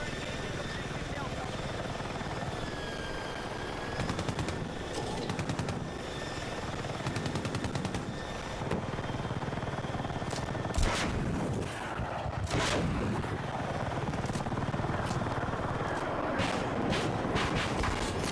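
Strafing gunfire in Battlefield 6 with aircraft or helicopter engine drone, sharp bursts of shots cracking over a constant loud rumble, with voices talking over the action.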